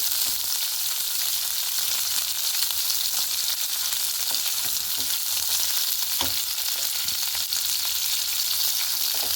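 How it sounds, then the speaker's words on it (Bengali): Shrimp frying in hot oil until reddish, giving a dense, continuous close-up sizzle with small scattered pops and occasional faint stirring, steady and loud, with no talking. "একটু লাল লাল করে ভেজে নেব।"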